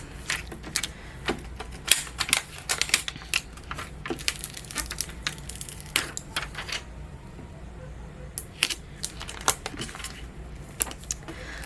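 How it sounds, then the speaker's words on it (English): Vinyl craft letters peeled up from behind off transfer tape, giving a close, dry crackling of scattered sharp ticks and snaps in irregular bursts over a quiet background. "We just need to make sure that we peel it up from behind, just like that."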